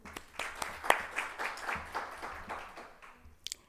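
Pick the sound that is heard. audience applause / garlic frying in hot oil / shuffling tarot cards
audience applause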